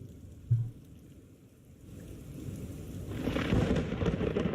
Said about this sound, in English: you can also hear the lightning